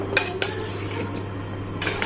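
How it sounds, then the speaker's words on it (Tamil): A spoon lightly stirring cut fruit pieces in a bowl for fruit salad, a few soft clinks and scrapes against the dish at a gentle, unhurried pace, close and fairly quiet. "இப்போ இந்த பழங்கள்லாம் வந்துட்டு கொஞ்சம் லைட்டாக மிக்ஸ் பண்ணி விட்டுக்கலாம்."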